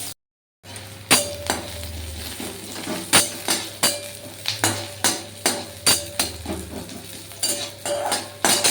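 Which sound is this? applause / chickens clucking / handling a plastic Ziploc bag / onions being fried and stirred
onions being fried and stirred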